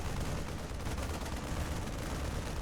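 Marines in StarCraft 2 firing on a Protoss pylon, a steady, faint wash of rapid gunfire heard from a distance without pause.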